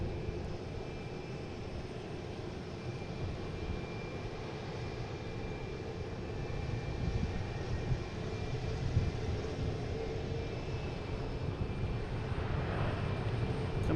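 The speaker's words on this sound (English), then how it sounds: "Coming in from Amsterdam at A330-300, flight 617." A KLM Airbus A330-300 jet airliner arriving from Amsterdam at Boston Logan, a steady broadband engine roar that stays moderately loud and swells slightly toward the end, with no talk over it.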